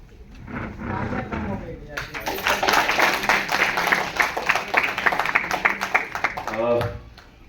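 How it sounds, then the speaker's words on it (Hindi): Audience applause welcomes a speaker to the stage at a two-day national disaster management training in a Krishi Vigyan Kendra auditorium in Patna. A dense, loud burst of clapping starts suddenly after brief talk and holds steady before fading. "जोरदार तालियों से स्वागत करिए संजय कुमार सर का"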